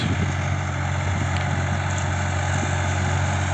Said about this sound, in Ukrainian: Тут дискуємо трактор Соліс